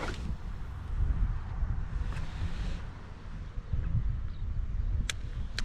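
Steady wind buffets the microphone with a low, rumbling roar that swells and eases, outdoors while fishing, with no voices.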